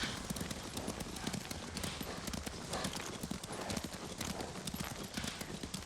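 Horse hooves clip-clop steadily in the video game Ghost of Tsushima, a dense, close run of rapid hoofbeats with faint speech mixed in beneath.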